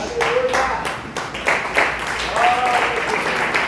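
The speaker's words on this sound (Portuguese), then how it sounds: "Poder assentar aplaudindo o nome do Senhor Jesus." Church congregation clapping during a Portuguese-language service, rhythmic bursts of handclaps in time with a sung or spoken voice that runs over them.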